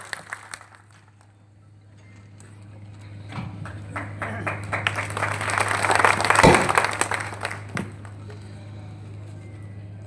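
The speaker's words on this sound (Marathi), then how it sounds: "एकदा हातवरती जोरदार टाळी" Crowd applause at a political rally, a broad wash of clapping that builds over several seconds to a loud peak, then thins out, over a steady electrical hum from the sound system.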